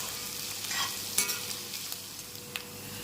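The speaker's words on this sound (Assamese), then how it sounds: "পিঁয়াজখিনি ধুনীয়াকৈ ৰঙা হোৱালৈকে ভাজি থাকিব লাগিব" Sliced large onions fry in mustard oil in a kadai, a soft continuous sizzle marked by a few scraping stirs and light clinks of the spatula.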